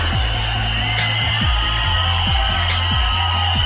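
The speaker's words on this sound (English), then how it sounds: "a round of applause for Miss Mexico" A Miss Universe pageant audience applauds and cheers for Miss Mexico, a dense roar of clapping and whoops filling the hall, loud and sustained with music-like tones underneath.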